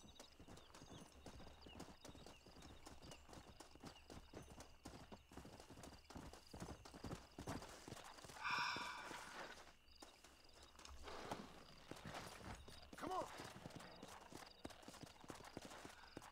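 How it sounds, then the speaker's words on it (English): Horse hooves clip-clop steadily at walking pace in the Red Dead Redemption game, a continuous mid-level patter with a brief neigh-like burst partway through, and no talking. "No, Shadow is my horse."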